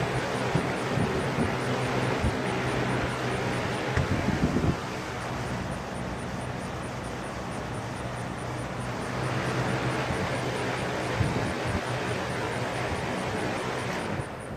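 Lasko B20540 box fan running after a repair, giving a steady whooshing roar of moving air with a faint rhythmic flutter; a brief knock near the middle.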